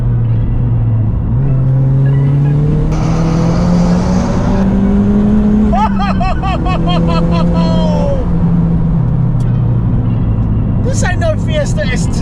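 A tuned Ford Fiesta ST engine revs up loud and close, its pitch climbing and easing in drawn-out pulls, while voices break in briefly over the engine noise.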